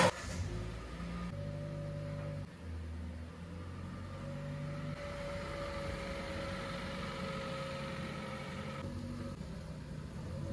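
A car's engine hums steadily as it is driven out, with the pitch shifting as it idles and pulls away. The sound is moderately close and lasts about ten seconds, with no talking.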